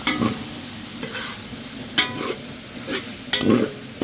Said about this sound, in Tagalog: Gigisahin ko to para masarap. Haluin ko muna.